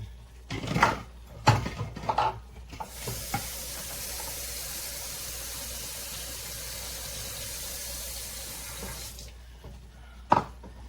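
Water pours steadily from a tap for several seconds, a constant hiss, framed by a few clanks and knocks before and after.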